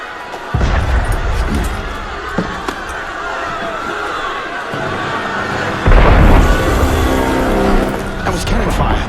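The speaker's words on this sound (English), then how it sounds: "That was cannon fire." Cannon fire in the Assassin's Creed Unity game lands as several heavy booms, one early and a louder one later, over a busy, noisy scene with a voice talking.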